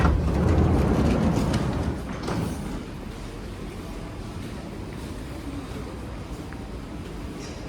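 A loud, steady rumble of a moving metro train in Romania, heavier at first and then settling into a continuous roar and hiss.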